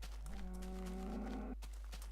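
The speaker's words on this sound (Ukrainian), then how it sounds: "Корови, привет! Наркоманські корови, це круто." A mooshroom cow in the mushroom biome of the video game PlayCraft lets out a single low, drawn-out moo over a faint steady background hum.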